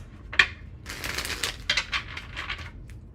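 Quick papery riffling and flicking of tarot cards, a sharp tap near the start, then a burst of close shuffling that fades out.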